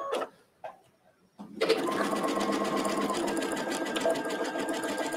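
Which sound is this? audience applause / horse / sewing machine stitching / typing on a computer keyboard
sewing machine stitching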